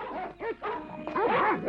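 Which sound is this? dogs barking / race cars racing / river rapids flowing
dogs barking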